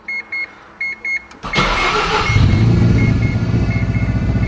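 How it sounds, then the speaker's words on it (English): A Mazda RX-7 FD rotary engine is cranked with a few short starter whirs, catches and then bursts into a loud, rough, pulsing idle that carries on, recorded up close. "let's try give the car a first crank"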